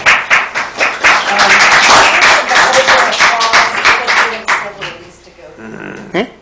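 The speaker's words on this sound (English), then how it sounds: "Could you ask them to hold their applause?" Audience applause breaks out at a county council meeting, a dense burst of clapping that swells then thins out over several seconds, with a voice speaking over the tail end.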